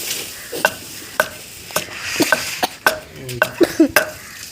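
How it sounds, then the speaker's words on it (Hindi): Ginger and garlic pounded by hand in a pestle and mortar in a home kitchen, a series of irregular dull thuds and knocks, close and fairly loud, with no talking. "तो अब लहसुन वगैरह जो इसमें कूट रहा हूँ मैं, कूट ही ये अदरक कूट रहा हूँ, फिर लहसुन कूटूँगा जी।"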